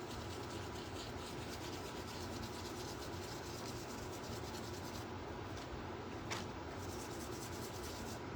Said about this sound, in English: Sand it real good.